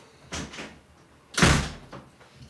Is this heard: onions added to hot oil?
no